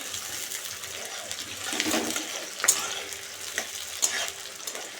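Onions fry in oil for a meat curry in a home kitchen, a soft continuous sizzle broken by scraping stirs and small clinks of the utensil.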